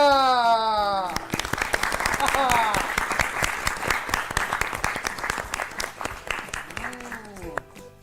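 A studio audience breaks into loud, sustained applause that follows a voice and slowly fades, with a speaking voice rising again at the end.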